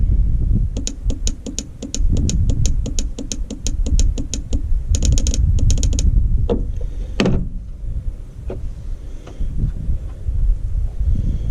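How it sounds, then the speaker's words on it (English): A purge valve on a GM 4.3L V6 gives a fast run of sharp, close mechanical clicks, then scattered single clicks as it is touched and released. "every time I touch it, it clicks. Every time I let go, it clicks"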